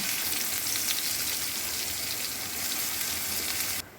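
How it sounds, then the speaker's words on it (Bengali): Onions frying in oil in a pan while cooking chicken biryani with Gobindobhog rice give a steady, dense sizzle throughout, close and fairly loud, cut short by a brief clatter at the very end. "এবার পেঁয়াজটা লাল লাল করে ভেজে নেব।"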